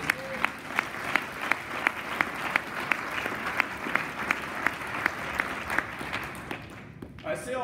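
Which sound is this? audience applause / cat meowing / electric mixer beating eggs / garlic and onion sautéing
audience applause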